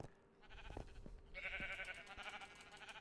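Minecraft sheep on a sheep farm bleat in a few short, nasal cries that come close together. The calls are fairly faint and there is no speech.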